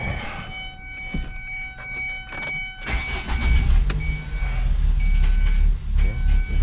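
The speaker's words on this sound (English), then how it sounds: "the engine has a difficulty maintaining idle. So it kind of revs up and down, up and down" A car engine with an intake vacuum leak idles roughly, its steady low rumble rising and falling as the revs hunt up and down, close and loud with no talking.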